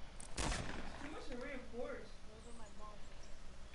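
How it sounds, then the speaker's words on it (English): Gunfire in a shooter video game, a short loud burst near the start followed by fainter scattered shots while someone talks over it. "No, Froze, I actually hear gunshots."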